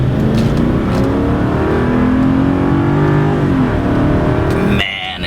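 A Mercedes-Benz CLK 500 coupe engine pulls hard and loud under acceleration, its tone rising steadily for nearly five seconds before dropping off abruptly near the end.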